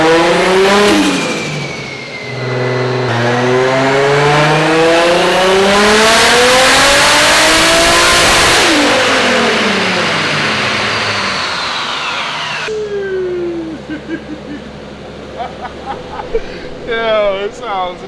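A turbocharged four-door Toyota Supra roars on a dyno under boost, revving hard in long rising and falling sweeps, very loud and close, then settling to a rougher idle with pops.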